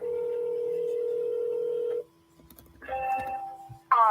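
A phone line gives a steady tone for two seconds, followed by a short gap and then a few brief electronic beeps, as if a number is being dialed for a cold call. No voices are heard.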